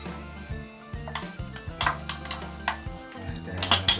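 Glass jar of natural tomato lowered into a canning pot, knocking and clinking against metal several times in a busy, close run of clatter.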